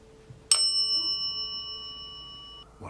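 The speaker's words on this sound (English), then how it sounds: "The bell just rang." A single bright bell strike rings out during a ghost hunt, its clear metallic tone sustaining for about two seconds before fading, over quiet room background.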